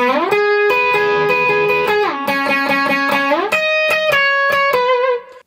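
Lead line from a song at ATP on an overdriven electric guitar, with sliding notes and repeated picked phrases over a ringing tone, loud and close with no voices, cutting off abruptly at the end.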